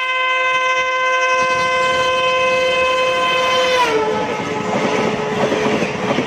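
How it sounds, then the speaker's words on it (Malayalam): A four-coach train on a high-speed trial run at 120 km/h on the Madurai–Theni line roars past with a loud, steady rumble, a long sustained horn blaring over it that cuts off near the end as the rolling noise continues. "4 ബോഗികൾ ഘടിപ്പിച്ച ട്രെയിൻ 120 കിലോമീറ്റർ വേഗത്തിൽ ഓടിച്ചാണ് പരീക്ഷണ ഓട്ടം നടത്തിയത്."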